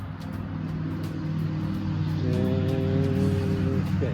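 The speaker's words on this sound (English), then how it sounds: "Sorry about the road noise." Steady outdoor road traffic hum beside a winter trap line, a continuous low rumble that swells slightly as a vehicle passes nearby, with a tonal engine drone emerging toward the end; no talking.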